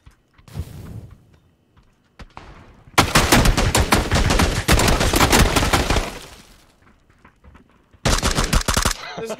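PUBG gunfire in fast automatic bursts: a short burst, a single crack, a long sustained spray of rapid shots, then another loud burst at the end, close and punchy.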